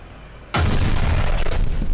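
A Challenger tank's main gun firing in War Thunder, one sudden heavy boom out of quiet that rolls into a long, loud rumbling decay.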